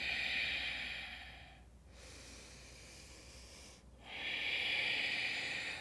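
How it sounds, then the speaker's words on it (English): Deep ujjayi breathing in and out through the nose during a yoga HIIT workout: a long, loud, close breath, a quieter softer stretch, then another strong airy breath, with no talking. "In and out through your nose, that deep ujjayi breathing."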